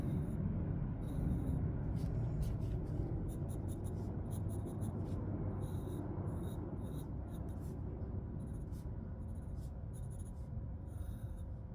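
Pencil scratching on paper while drawing the lines of a cylinder, bursts of short strokes with pauses between, close but soft over a low steady background rumble.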